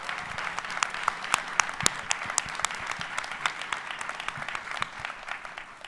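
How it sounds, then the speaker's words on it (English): A crowd at an evening talk applauds the teachers in the room, with dense, sustained clapping and some sharp individual claps standing out throughout. "Can we get a round of applause for our educators?"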